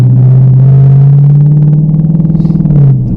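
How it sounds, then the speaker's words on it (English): A loud, deep exhaust from a Dodge Charger R/T with mid-muffler and resonator delete drones steadily at low pitch with a throaty rumble, pulsing slightly before the note drops away at the end. "with a mid-muffler and Resonator delete, it's going to sound like this."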